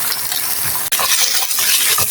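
Mixed vegetables lightly frying in a pan with garlic give off a steady bright sizzle and hiss, with scraping clinks from stirring and one brief dropout partway through.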